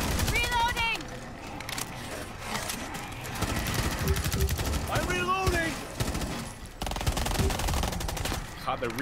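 Rapid gunfire from a secondary weapon in the co-op shooter Rainbow Six Extraction, a steady rattling stream of shots with people talking over it.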